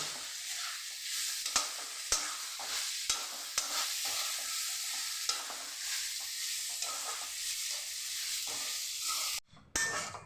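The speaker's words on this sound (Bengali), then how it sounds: "পোস্তটা ভালো করে মিশিয়ে নেব।" Poppy seed paste being stirred into bottle gourd greens with potato in a hot pan, steady sizzling broken by sharp spoon scrapes against the metal, close and alone, ending with a brief clatter.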